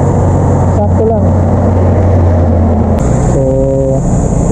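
Honda Click scooter engine idling while warming up, a steady low hum under a voice talking close by.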